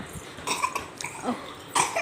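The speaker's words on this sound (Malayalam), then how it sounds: "ഒരു ചെറിയ ചുമ തുടങ്ങിയിട്ടുണ്ട്" A few short, sharp coughs from a small child, close by, spaced irregularly over about two seconds.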